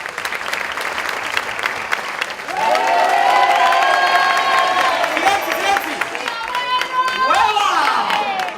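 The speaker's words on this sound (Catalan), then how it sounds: "Un fort aplaudiment pel Gerard Borrell!" A crowd at a disco's 40th anniversary event in Calafell breaks into loud, sustained applause, dense clapping swelling after a few seconds, with whistles and cheers ringing over it.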